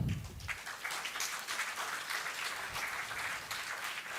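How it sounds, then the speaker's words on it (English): Applause from an audience at a university induction program, steady and moderately loud for about four seconds after a brief low thump at the start. "A huge round of applause for Sir."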